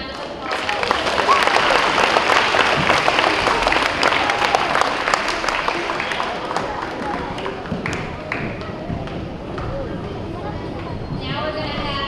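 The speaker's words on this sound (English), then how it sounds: "If you could give them a round of applause." Audience applause for award winners at a school awards event, a crowd clapping in a dense patter that swells early and then thins out, with voices talking underneath.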